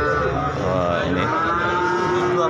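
Cattle low with long, drawn-out moos at the Karanggareng cattle market in Magetan where calves are sold, loud and near over a busy background of crowd noise and passing engines.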